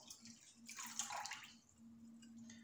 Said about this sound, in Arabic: نضيف عليه هادوك 3 كيسان ونص تاع الماء